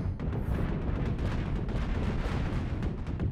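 Rockets pound a ship's hull in the space combat game Cosmoteer, a dense, continuous barrage of booming impacts and crackling blasts, loud and close, with no talk over it.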